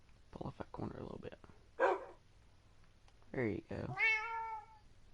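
Minecraft PS4 Edition cat meows twice, short synthetic calls near the end after a burst of other game noise, with someone speaking casually before them.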